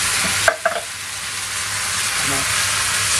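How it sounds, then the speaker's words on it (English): Venison stir-frying in a hot pan as mangetout and spring onions go in, a loud constant sizzle and hiss heard up close, with a brief clatter near the start. "Let's put the mangetout and the spring onions"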